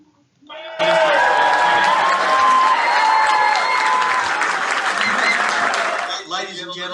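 Campaign launch audience breaks into loud applause and cheering, a sustained roar of clapping with shouts and whistles rising suddenly after a brief voice, then cutting off as someone begins speaking.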